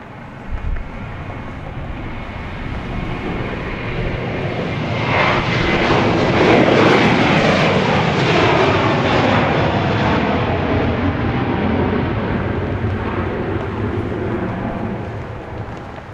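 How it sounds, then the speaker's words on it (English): An airliner bound for Las Vegas roars past at Dallas Love Field, a loud, broad jet rumble that swells to a peak midway and slowly fades, with some wind buffeting the microphone. "Here's a flight to Las Vegas."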